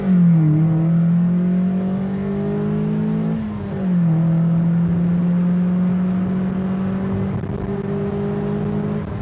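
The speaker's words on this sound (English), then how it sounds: "I love the noise of this car." A Mazda NB Miata engine drones and revs steadily up close, its low tone rising and dipping with the throttle, with no voices.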